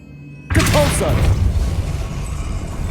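Depulso spell cast in Hogwarts Legacy: a sudden loud blast erupts after a short quiet, then a rumbling crash and whooshing debris fade out, with a brief spoken word over the impact.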